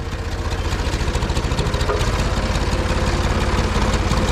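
A farm tractor engine runs close by at a steady idle, a loud, low, evenly pulsing diesel rumble with no voices.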